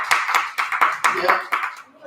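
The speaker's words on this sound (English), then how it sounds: "Renee, clap for that" Sharp handclaps ring out in a quick uneven series of about eight strikes, close and fairly loud in a casual room during a men's discussion show, with voices blending around them.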